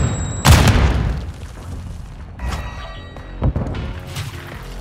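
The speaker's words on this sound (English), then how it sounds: "Semtex out!" A Semtex grenade explosion in Call of Duty: Modern Warfare II, an abrupt loud boom followed by a few sharper cracks and thuds of in-game gunfire and impacts, with no voices.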